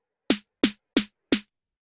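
A snare drum sample from beat-making software fires four times in an even, quick sequence, each hit a sharp crack with a brief tail, dry and isolated against silence.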